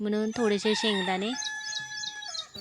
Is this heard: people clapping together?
no